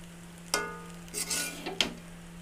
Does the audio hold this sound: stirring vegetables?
yes